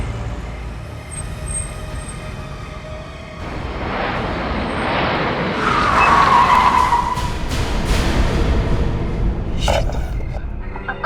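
A car on a night road brakes with a rising hiss and squeal, then rolls to a stop; a steady engine rumble runs throughout and some faint talk is heard in a horror drama scene.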